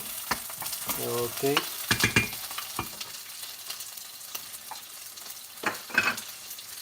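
Onion being stir-fried in a pan, a soft continuous sizzle under scraping and stirring strokes and clinks of a utensil, with a brief spoken word near the start.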